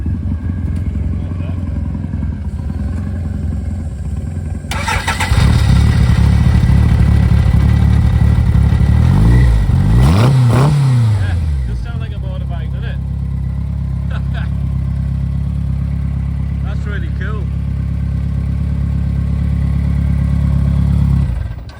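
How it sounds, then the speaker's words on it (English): A Hillman Imp fitted with a motorbike engine revs loudly at a classic car hill climb, a steady close idle swelling into hard, rising revs and settling back to a rough mid-pitched drone, with people talking nearby. "So we got a Hillman imp with a motorbike engine in it."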